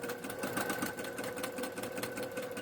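A sewing machine runs in one continuous rapid stitching burst, steady and close, as it sews an arm piece for a memory bear.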